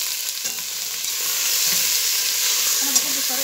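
Meat cooking with cardamom pods in a pot, a steady frying sizzle with soft scraping of a spoon stirring through it, close and continuous.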